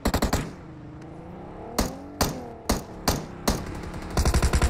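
Game bots open fire in a shooter: a fast automatic burst at the start, then four or five separate sharp shots spaced about half a second apart, and a rapid rattling burst to finish, moderately loud with no talking.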